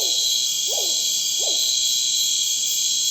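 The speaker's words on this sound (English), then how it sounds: "In the distance, the mottled owl hoots, larger than the screech owl." At dusk at a forest edge near plantings, a mottled owl gives two clear hoots about a second apart from a distance, over a loud, constant drone of insects.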